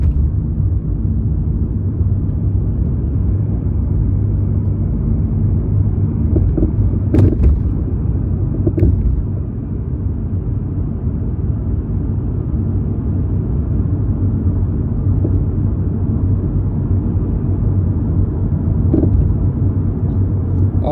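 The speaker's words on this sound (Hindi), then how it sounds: "एक्सेलरेट करने पे गाड़ी स्पीड हो ही रही है" A car accelerates on a snowy road during heavy snowfall in Saskatoon, Saskatchewan, giving a continuous low engine and road rumble that holds steady at a fairly loud level, with a couple of faint clicks partway through.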